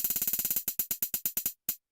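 A programmed hi-hat pattern played from code: a rapid run of crisp, bright ticks that slows into spaced hits, ending with a couple of isolated strikes, loud and alone with no talking.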